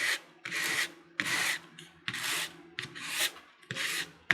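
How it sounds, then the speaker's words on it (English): Sandpaper is rubbed lightly over dry gesso on an artwork in six or seven short, rhythmic strokes. Each scratchy rasp is close and fairly quiet, with brief pauses between them. "I think the gesso is dry, so I'm going to lightly sand that too"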